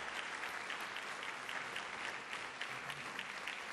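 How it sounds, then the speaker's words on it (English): Steady applause from an audience, a dense patter of clapping filling the whole stretch with no voices over it. "Please give them a round of applause."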